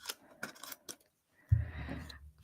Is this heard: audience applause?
no